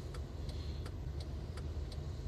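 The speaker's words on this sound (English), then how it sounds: "I just really like things like this little chirpy indicator noise" A 1992 Kia Pride 1.3 LX turn indicator chirps in a steady tick-tock, about seven crisp, evenly spaced clicks over a faint low engine hum inside the car.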